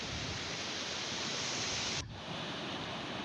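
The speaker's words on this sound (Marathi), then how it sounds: "पाणी वाहत आहे." Steady broadband rush of a river flowing near a village among green hills, even and continuous with no voices, dipping briefly in level partway through before resuming.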